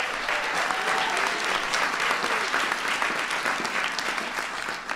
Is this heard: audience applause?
yes